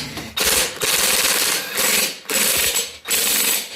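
Ratchet socket wrench turning on the rear brake hub of a 1996 Cushman Titan, loud close clicking strokes in four steady bursts with short pauses between them.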